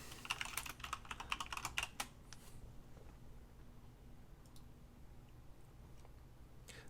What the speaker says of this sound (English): I'm gonna type out my name.